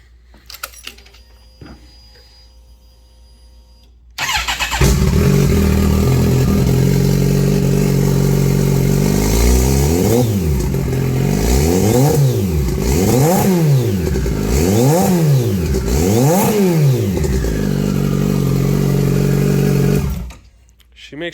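A turbocharged Kawasaki ZX14 motorcycle starts and idles loudly up close, then is revved repeatedly in several rising-and-falling sweeps with a whistling turbo spool riding on top, before cutting off abruptly.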